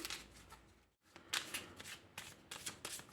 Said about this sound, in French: on va devoir mélanger les 15 cartes infectées avec toutes celles qui sont saines